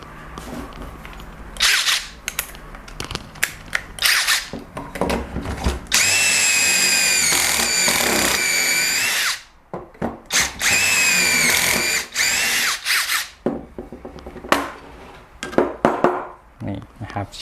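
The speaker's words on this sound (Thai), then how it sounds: "อย่างตัวนี้ผมคงจะเจาะเอียงนะครับ" A Kyocera cordless impact driver whines in two long, loud bursts while drilling at an angle, with shorter revs and clatter of handling around them and someone talking between.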